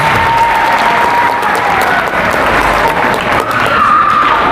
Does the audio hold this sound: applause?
yes